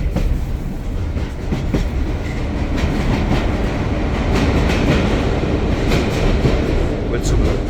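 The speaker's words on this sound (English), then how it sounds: "diesel loco being pulled through the Well Valley." A diesel locomotive train on the East Lancashire Railway runs through a valley with a loud, steady rumble and faint clickety-clack from the wheels throughout.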